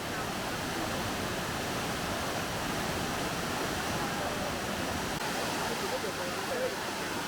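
A steady, dense rush of water pours down a rocky cascade at Sungai Lembing, a continuous close wash of white noise with no break and no voices.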